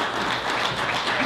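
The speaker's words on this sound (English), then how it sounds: "round of applause." Audience applause at a live membership meeting, a short burst of steady, full clapping from many hands, loud and even throughout.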